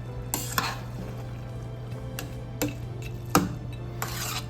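Basmati rice stirred into thick biryani sauce for Nellore-style Andhra mutton biryani, with several sharp spoon scrapes and clinks against the pot over a low, steady hum.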